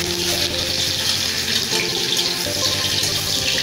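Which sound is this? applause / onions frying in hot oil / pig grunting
onions frying in hot oil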